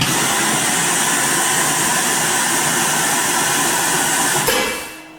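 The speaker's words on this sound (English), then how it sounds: "So we'll start the Piab up." A Piab vacuum conveyor, fitted with a new filter, runs with a loud, steady broadband whoosh and hum, close and continuous, then cuts off abruptly near the end.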